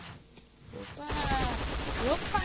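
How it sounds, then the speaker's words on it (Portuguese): A burst of rapid video game gunfire erupts after a quieter moment, dense and continuous, with a faint voice underneath. "vamos tacar tiro neles"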